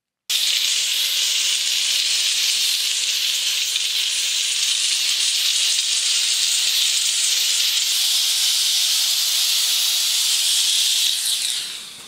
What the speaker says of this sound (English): it does a lot of sputtering at first and puts out quite a bit of water.